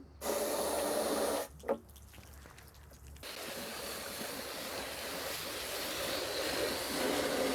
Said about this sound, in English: Then we carry the rail outside and spray out the inside with a hose to clean out any dirt.